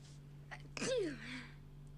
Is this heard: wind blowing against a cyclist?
no